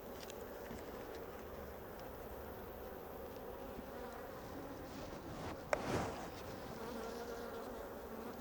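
Honey bees buzz steadily around an open hive during an inspection, a dense continuous hum filling the air, with one louder bee zipping close past near the end.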